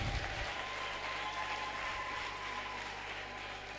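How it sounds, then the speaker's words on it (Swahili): Widows at a church meeting in Trans-Nzoia County clapping for the Lord: sustained applause from a crowd in a hall, a steady rattle of many hands lasting several seconds, without talk. "I thought the widows will clap for the Lord."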